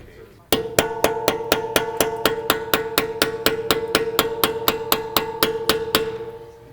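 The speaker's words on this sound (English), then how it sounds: "Just using a small chisel to unstake the axle nut a little bit." A small chisel is tapped against the staked axle nut of a BMW N52 E90-series car, about twenty sharp, ringing metallic strikes at a steady, quick rhythm, loud and close, each leaving a bright resonant ring.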